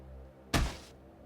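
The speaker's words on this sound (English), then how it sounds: "helped her try to batter it down." A single heavy thud against a door in the visual novel Chaos;Child, one loud blow with a short rumbling tail over a quiet low hum.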